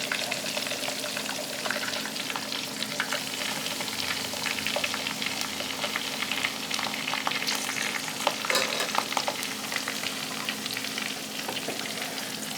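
Gambas al ajillo, garlic shrimp, sizzle steadily in a hot pan, a dense continuous crackle with scattered sharper pops and a faint low hum beneath, with no voices.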